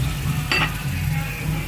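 A pan sizzles steadily and close up, a thick frying hiss with one brief scraping stir partway through.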